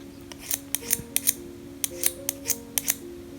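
A pencil is shaved with a Høvel sharpening plane, producing a series of about a dozen crisp, scraping strokes in an uneven rhythm, close and clear over a faint background hum.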